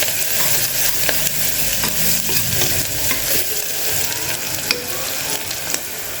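Chopped onions and green chillies sauté in hot oil with a loud, dense, unbroken sizzle and crackle, close up, with occasional faint stirring taps.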